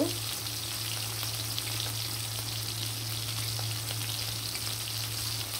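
Bhetki fish sizzles in hot oil in a pan, a loud, steady, dense crackle and hiss that continues unbroken with no talking.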